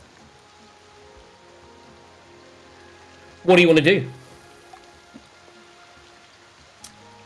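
Light rain falls steadily as a soft, even hiss behind a fantasy city-bridge scene, with one brief spoken question cutting in partway through.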